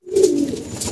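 A single low, soft coo from a domestic pigeon kept at home with its young, close and fairly loud, heard alone without talk.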